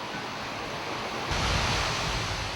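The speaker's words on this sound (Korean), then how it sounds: "최종 방류수를 2대의 펌프로 끌어올려 인공폭포로 흘러내리게 하는 방식이다" Treated final wastewater pumped up and spilling down an artificial waterfall at a sewage treatment plant in Namyangju, a steady broadband rush that swells louder halfway through, with no voices.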